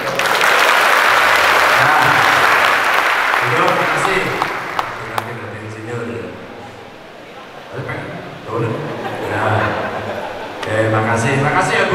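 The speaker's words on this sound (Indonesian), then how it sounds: "Tepuk tangan dong." Students in a classroom at a vocational high school in Wonogiri applaud loudly for the first few seconds, with a few chuckles mixed in. The clapping then fades as people start talking over lighter, scattered claps.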